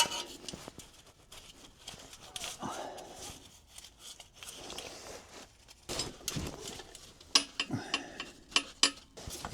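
A 10mm ratchet undoes bolts near the thermostat pipe in a Porsche 996 engine bay, with irregular clicking and metallic handling noises up close, punctuated by sharper clacks toward the end.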